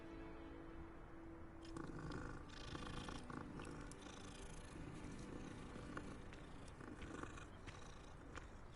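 A cat purring in the Hogwarts Legacy video game, a steady low rumble that runs through the whole stretch under continuous game ambience and scattered clicks, with no talk.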